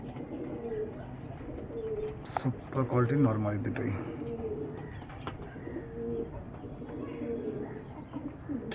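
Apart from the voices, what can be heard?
pigeons cooing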